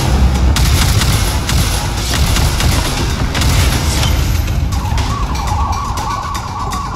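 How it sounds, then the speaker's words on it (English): A missile slams into a ship in Warframe with heavy booming rumble and debris-like crackle, a loud sustained blast that lingers for several seconds before a steady tone rises beneath it. "Missile impact imminent."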